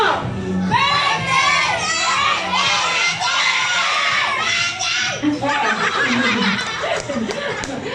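A crowd of children at a 10th birthday party shout and shriek loudly together, sustained and overlapping, with bursts of laughter and cheering mixed in.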